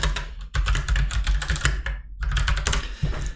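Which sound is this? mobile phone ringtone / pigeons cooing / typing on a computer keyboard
typing on a computer keyboard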